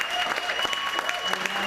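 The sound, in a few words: audience applauding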